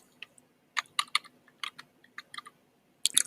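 Someone types a question on a computer keyboard into an insurance question-and-answer bot, producing soft, close keystroke taps in small irregular clusters over a quiet background.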